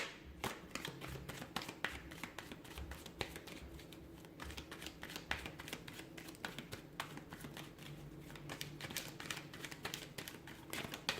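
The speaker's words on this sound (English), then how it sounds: "give the cards a shuffle" Tarot cards are shuffled by hand in a quiet room, a dense run of soft, rapid riffling clicks and taps that goes on throughout, close and faint.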